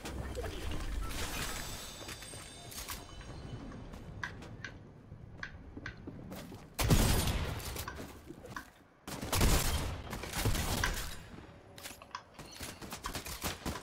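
Gunfire from players fighting inside a building in Fortnite, scattered single shots and bursts through the first half, then heavier clustered volleys around the middle and end, fairly close, with no talk over it.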